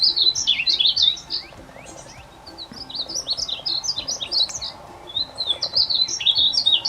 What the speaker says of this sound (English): I think we found a painted bunting.